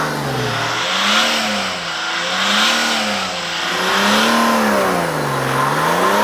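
The 3.2 litre straight-six diesel in a Mercedes S-Class revs repeatedly while parked, its loud, gruff note rising and falling in smooth, evenly spaced waves, heard up close with no talking.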